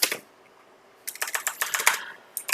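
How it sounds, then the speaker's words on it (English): Fingers tap a computer keyboard in quick irregular bursts at close range, a short burst, then a pause, then a longer run of clicks. "Oh, sorry, I'm just typing."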